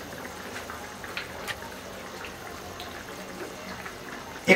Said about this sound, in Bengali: 5 মিনিট পরে ভালোই বলক চলে আসে